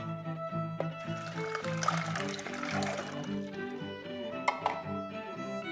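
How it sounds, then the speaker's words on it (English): Two cups of water are poured into a bowl full of ice in a kitchen, making a continuous splashing trickle that swells in the middle, with a few sharp clinks of ice near the end. "I have a bowl full of ice, which I'm going to add 2 cups of water to"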